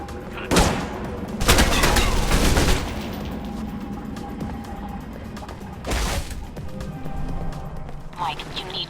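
Gunfire breaks out in an attack on security guards in Alpha Protocol, with bursts of rapid shots and booms in two clusters against a busy background.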